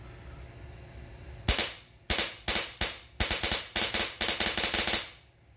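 An HPA Polarstar F1 airsoft conversion built from a Nerf Dart Tag Quick 16 fires on semi-auto with a box mag: about a dozen sharp, close, snappy pops, first spaced out and then in quicker bursts, with no talk.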